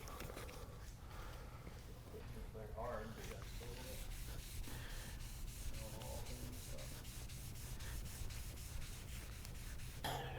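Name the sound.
wet sanding boat gel coat with 3000 grit sandpaper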